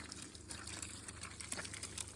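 Steady water flowing and splashing from garden irrigation bubblers nearby, a continuous gentle gush with no talking.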